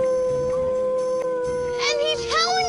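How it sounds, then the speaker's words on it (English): A cartoon werewolf howls in long, rising and wavering cries that grow louder near the end, over a sustained musical tone and some yipping. "And he's howling again!"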